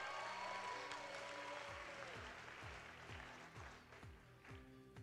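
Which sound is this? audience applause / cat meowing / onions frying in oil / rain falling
audience applause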